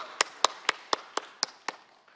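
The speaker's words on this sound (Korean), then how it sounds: "우리 하나님께 영광의 박수 올려드립니다" A congregation in a Korean church gives seven slow, evenly spaced unison claps of praise. Each clap is sharp and distinct, fading after the last.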